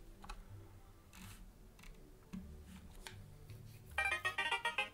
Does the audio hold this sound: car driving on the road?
no